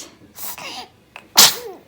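A child sneezes close up, a quick intake of breath followed by a sharp, bursting sneeze.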